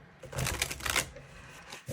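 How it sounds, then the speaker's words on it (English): A deck of tarot cards is shuffled by hand before a reading, making a close, soft papery riffling that swells into a dense burst of flutter for about half a second, then trails off. "I am just going to do one more shuffle, then I'm going to cut the deck and lay the cards out."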